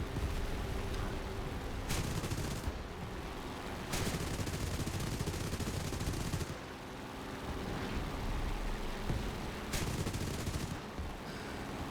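Zero fighter cannons blaze in War Thunder air combat: dense, loud rattling bursts of rapid gunfire, broken by a few brief pauses, with no talking over them.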